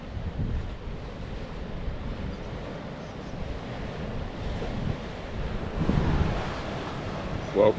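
Waves surge and wind buffets the microphone at Waverley Beach, a steady broadband roar with a stronger swell of surf near the end and no voices.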